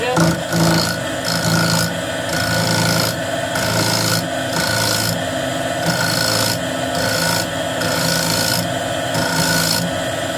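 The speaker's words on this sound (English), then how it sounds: "the first thing I can do with my bowl gouge is true up the rim" A bowl gouge trues up the rim of an old wooden bowl turning on a lathe, giving a loud, continuous rasping scrape that pulses rhythmically as the tool meets the spinning rim.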